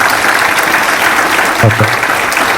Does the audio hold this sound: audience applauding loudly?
yes